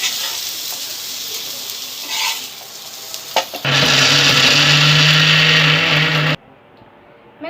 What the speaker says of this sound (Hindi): अभी मैं इसको मिक्सर में पीसने जा रही हूँ।